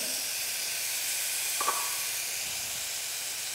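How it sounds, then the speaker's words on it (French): Banana caramel deglazed with lemon juice gives off a steady, close hiss and sizzle, with a brief sharper crackle partway through. "Je vais déglacer au jus de citron."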